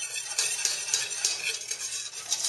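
Flour being stirred into hot oil in a pan to start a roux, a close rhythmic scraping and stirring over a light sizzle, steady for the whole moment.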